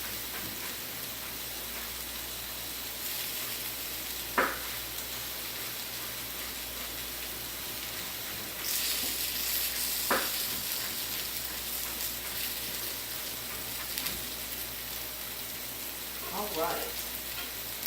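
Green beans with diced onions sizzle steadily in a hot pan, a continuous close frying hiss with occasional stirring clatters and a brief spoken remark.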